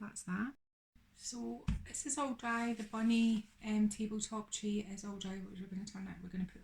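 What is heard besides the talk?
None of the usual background noises is heard.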